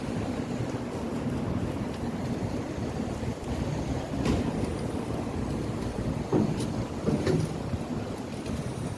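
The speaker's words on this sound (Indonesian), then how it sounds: "Semilir angin tuh ISIS." A steady outdoor breeze blowing along a walkway lined with trees, a continuous broad rush of wind noise with a few louder gusts, no talking.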